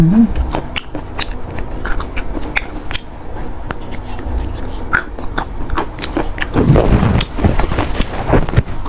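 Crunchy food being chewed close up, crisp irregular bites and crunches repeating across the clip, growing louder and denser toward the end, with no talking.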